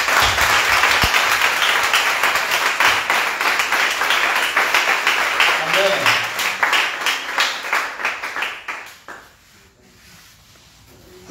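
A church congregation at a spiritual-week worship service in Douala, Cameroon, applauds to acclaim the Lord: loud, sustained, dense clapping that fills the room, then thins into scattered claps and fades out.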